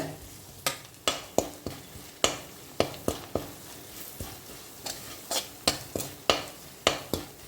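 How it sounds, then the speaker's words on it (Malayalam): Garam masala and coriander powder are sautéed in a pan for a homestyle pork and koorkka curry, with a spoon scraping and stirring in regular sharp strokes over a soft, continuous sizzle, close and clear. "മസാലപ്പൊടി മല്ലിപ്പൊടിയൊക്കെ ചേർത്ത് കൊടുത്തിട്ട് നല്ല പോലെ നമ്മൾ വഴറ്റിയെടുത്തിട്ടുണ്ട്"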